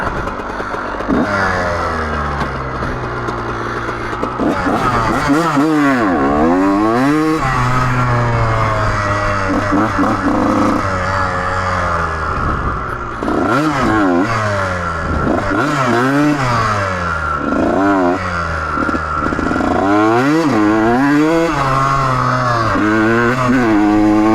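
A Kawasaki KX125 two-stroke dirt bike engine revs repeatedly, pitch climbing and dropping in quick surges between idling stretches, loud and close throughout.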